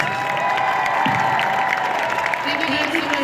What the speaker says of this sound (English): we need to give a huge round of applause to our panelists.